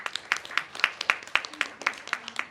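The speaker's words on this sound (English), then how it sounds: "Come on, clap yourself." Quiz contestants at a health quiz in a hall clap for themselves: a brisk, uneven patter of hand claps from a small group, fairly close and steady, with no one speaking over it.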